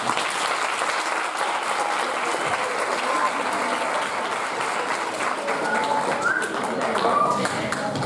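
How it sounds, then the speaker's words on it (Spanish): Applause for Cati and Adolfo at a primary school graduation, a dense, steady clapping from a crowd that holds evenly for several seconds with a few birds chirping faintly in the background. "vamos a dar un fuerte aplauso a Cati, a Adolfo"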